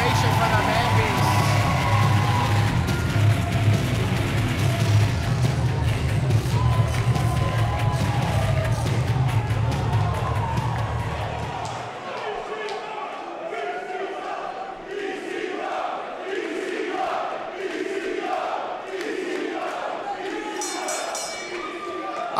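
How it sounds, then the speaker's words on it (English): A professional wrestling crowd gives a loud ovation for Rhyno, a dense roar with a heavy low rumble that drops off partway through, then continues as rhythmic chanting and cheering, with a commentator talking over the noise. "listen to the ovation for the Man Beast"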